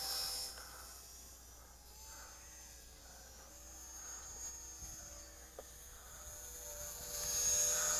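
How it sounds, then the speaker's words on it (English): An Eachine Mini Cessna four-channel RC plane takes off and flies, its small electric motor giving a faint, thin whine that drifts in pitch over a quiet outdoor background. "we're going to give it a little throttle and take to the air, hopefully"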